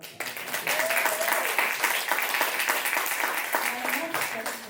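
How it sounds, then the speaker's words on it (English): An audience applauds at a podcast-style talk event: steady, full clapping from a crowd that continues for several seconds, with a faint voice underneath. "let's give them a big round of applause"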